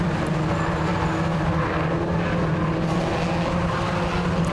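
BMW Compact Cup race cars at Croft Circuit roar continuously in a congested pack, a dense wall of engine noise with tyres squealing faintly and no voices.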